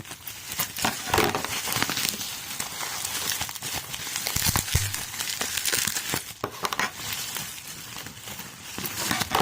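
Continuous close crinkling and crackling of bubble wrap being handled, dense and uneven, with occasional sharper rustles.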